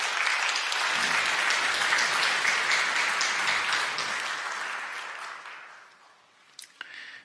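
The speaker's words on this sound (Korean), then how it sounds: "여러분들 따뜻한 환영의 박수 부탁드립니다." A church congregation applauds to welcome a newly registered young member during a Sunday worship service, steady broad clapping filling the room for about five seconds before fading out, followed by a couple of faint knocks.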